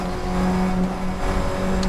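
Fun Cup race cars at Donington Park roar past on the track in a dense pack, a continuous loud engine drone with no voices.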